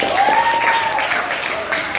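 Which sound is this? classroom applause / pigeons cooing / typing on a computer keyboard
classroom applause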